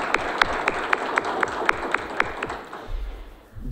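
Audience at a waiters' day ceremony applauding, steady crowd clapping with a few sharper individual claps standing out, fading toward the end.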